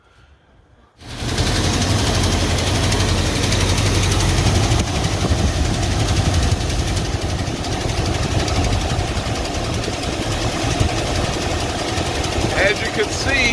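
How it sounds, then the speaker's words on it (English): A 1984 Ford F150 truck engine cranks and catches after a second of near silence, then settles into a loud, steady idle with a low rumble that runs unbroken to the end. "So let me get this engine started, warmed up,"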